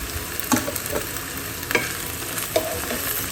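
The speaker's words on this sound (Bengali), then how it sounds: "এদিকে টমেটো আর পেঁয়াজটাও বেশ ভাজা ভাজা, একটু নরম টাইপের হয়ে গেছে" Onion and chopped tomato fry in a pan while being stirred, a steady close sizzle broken by soft scraping stirs at irregular moments, with no talk.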